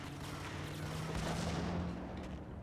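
A grenade goes off in the Max Payne video game as a loud, sustained rumbling blast with crackling debris that fills the whole moment, no voices over it.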